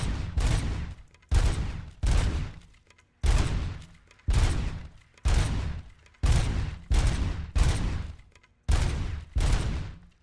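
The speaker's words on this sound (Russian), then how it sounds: "Ну это пистолет RoboCop" Repeated pistol fire from RoboCop's sidearm in RoboCop: Rogue City, about eleven loud evenly spaced shots, each with a booming decaying tail, no talking.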